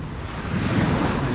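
Surf rolls in at Praia de Bugalhau beach in Maragogi: a steady, broad wash of breaking waves swells slightly louder, mixed with gusty wind buffeting the microphone, and no one speaks.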